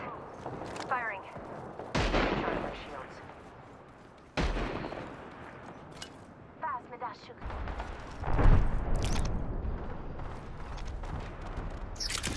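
Gunfire in the video game Apex Legends comes in several sharp bursts and volleys amid ongoing game noise, with a voice talking over parts of the action.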